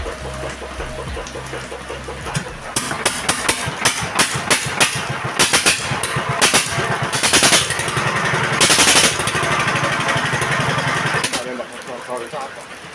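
A 16 HP diesel engine with low power and oil blowing out of its breather fires up after a low rumble of about two seconds, then settles into a loud, rapid, continuous knocking chug close by.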